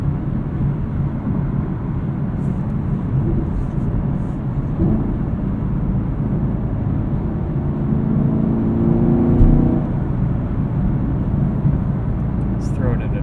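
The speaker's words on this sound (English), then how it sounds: "There's a little bit of wind noise and road noise and tire noise on the highway here." Steady broadband wind, road and tire roar inside a 2018 Chevrolet Camaro 2SS with a six-speed manual on run-flat tires, cruising on the highway; a constant loud rumble with a faint swell near the end.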